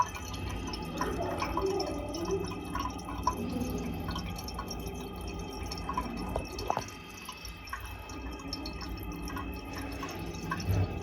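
Water drains from a western-style single-piece commode flush tank, a faint, steady trickle with scattered drips and small gurgles, low and close, without any talking.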